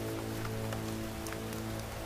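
Steady rain falls outside a teahouse in a period drama scene, making a constant soft patter with scattered drop ticks and a low background hum, without any speech.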